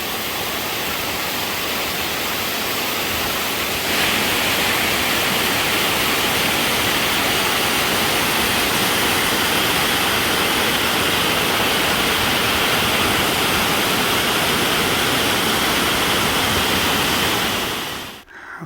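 Mountain stream water rushing together near a pond high on Kinsman Mountain, a loud, broad, unbroken roar of churning water at close range, swelling slightly after a few seconds and holding steady before cutting off.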